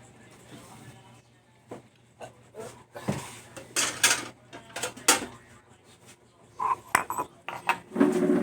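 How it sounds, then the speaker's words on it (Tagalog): Plates and cutlery clatter during dishwashing at a sink after a home lunch of pakbet, with irregular clinks, knocks and rubbing scrapes that come close and grow busier toward the end. "Maghugas lang ng plato."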